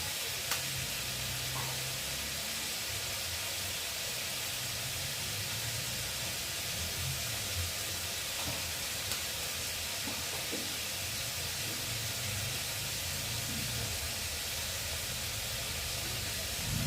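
Potatoes fry in a pan for chow mein, giving a faint, even sizzling hiss that runs steadily throughout with an occasional soft tap, no voices present.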